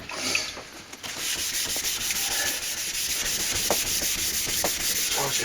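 Hand sanding of built-up lacquer with sandpaper on a sanding block, a steady close-up rubbing scrape running continuously with short repeated strokes throughout, no talking.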